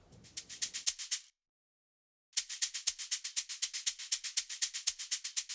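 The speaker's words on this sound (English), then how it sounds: "we have this shaker repitched. So originally it's an 80 BPM sample" Repitched shaker loop, originally an 80 BPM sample, plays as a steady run of crisp, bright shakes, breaks off into about a second of silence, then resumes in an even rhythm, alone with no voices.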